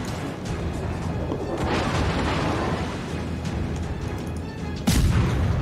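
Warship guns firing high-explosive shells in the naval game World of Warships: a dense, continuous rumble of heavy blasts, with a sharper, louder boom near the end.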